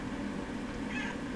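A cat meows once in a drawn-out cry against a steady background hum, short and moderately close, with no talking.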